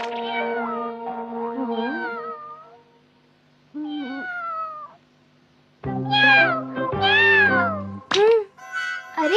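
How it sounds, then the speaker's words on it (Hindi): A stray cat meows repeatedly and loudly up close, giving several drawn-out, wavering cries with short pauses, then a burst of sharper calls near the end. "ये तो किसी बिल्ली की आवाज लगती है।"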